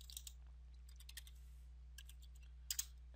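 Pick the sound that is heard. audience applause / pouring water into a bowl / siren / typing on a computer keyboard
typing on a computer keyboard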